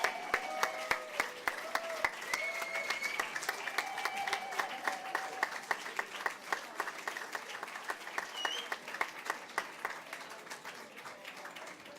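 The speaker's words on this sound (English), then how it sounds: "give me some applause." Audience applause at a cultural show, a steady run of many hands clapping for about twelve seconds with sharp individual claps standing out near the front and a few voices calling over the clapping.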